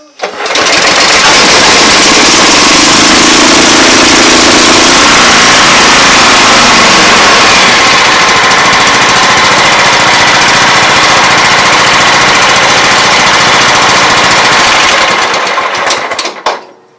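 Bobcat 42-inch riding mower engine, set on choke, pull-started and then running steadily, a loud, continuous, close engine roar that holds for the whole stretch before cutting off at the end.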